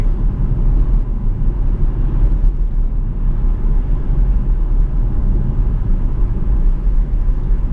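A 2010 Jaguar XF 5.0 V8 on the move, picked up at the bumper: a loud, steady, deep rumble of engine and road that continues without a break, with no talk.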